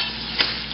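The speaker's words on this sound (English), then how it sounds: "just gonna stir this up so the masala doesn't stick to the boti" Masala is stirred into chicken karahi in a pan, a brief burst of scraping over a low steady sizzle, close and short, with no talking.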